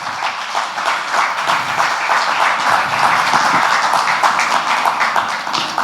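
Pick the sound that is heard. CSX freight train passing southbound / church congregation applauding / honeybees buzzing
church congregation applauding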